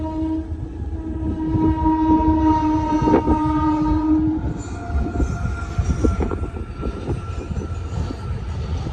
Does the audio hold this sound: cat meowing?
no